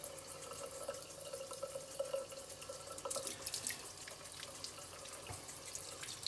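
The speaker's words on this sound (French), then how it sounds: "Et après, on rince." A deer skull is rinsed under a running tap: steady water pours into a sink with splashing and dripping, fairly faint, with no voices.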